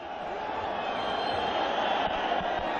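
A football stadium crowd at an AFC Champions League knockout match between FC Istiklol and Persepolis sends up a constant, distant roar, with a commentator's voice talking over it.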